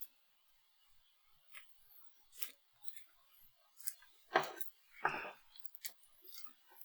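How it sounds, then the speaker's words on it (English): A few sharp scissor snips cutting the top off a gallon-size plastic zipper bag, two louder cuts in the middle, with faint rustling in a quiet room. "We're going to cut off the top like this."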